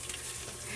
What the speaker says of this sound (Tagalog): Gisa mo na yung tubol.